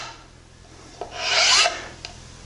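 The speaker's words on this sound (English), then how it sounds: "the way I deal with it is that laminate file that I talked about" Laminate file drawn in a steady downward stroke along edge banding, held at a shallow angle, making one loud, close rasping scrape that swells and fades, with faint ticks just before and after.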